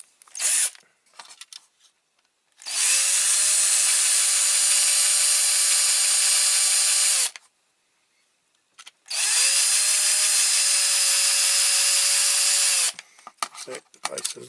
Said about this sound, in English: Slightly bigger drill.